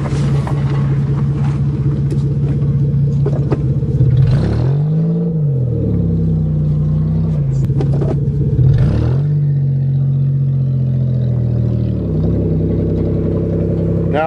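A manual-transmission Toyota drives on a farm and slows under braking with the clutch pushed in, its engine droning loud and steady, the pitch dipping and rising twice as revs change.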